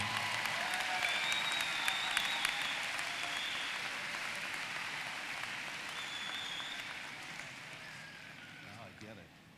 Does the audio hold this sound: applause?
yes